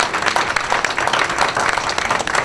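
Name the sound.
audience round of applause for the council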